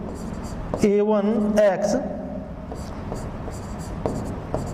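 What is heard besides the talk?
writing on a board during a maths lesson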